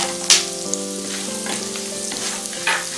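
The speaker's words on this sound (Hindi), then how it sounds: "इसे मीडियम आंच पर भुने और लगातार हिलाते रहें" Cashews roasting in a pan over medium heat for Diwali poha chivda, with a steady low sizzle and scraping stir strokes, a few sharper clinks of the spoon against the pan, and no talking.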